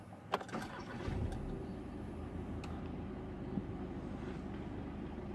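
A 2017 Volkswagen T-Roc 2-liter four-cylinder turbo diesel cranks with a brief jolt and catches, then settles into a steady, low clattering idle nearby.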